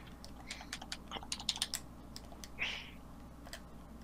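Clicky keyboard-like tapping picked up over a microphone during an online ranked match, quiet scattered clicks in short clusters over a low hum, with one brief louder burst.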